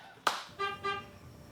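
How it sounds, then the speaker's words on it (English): Two short car horn honks sound at close range, each a steady harmonic toot under a second long, following a sharp tap or knock; no one speaks. "You aren't gonna get in the car with a guy who honks, are you?"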